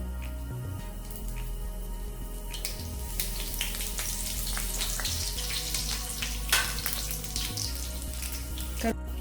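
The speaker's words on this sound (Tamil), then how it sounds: "ஆயில் ஹீட் ஆயிடுச்சு. கடுகும் சோம்பும் எல்லாம் மிக்ஸ் பண்ணிக்கலாம். கருவேப்பிலை ஆட் பண்ணிக்கலாம்." Mustard seeds, fennel seeds and curry leaves frying in hot oil for masala noodles, a dense close crackle with sharp popping spatters throughout, low rumble from the stove beneath, no voices.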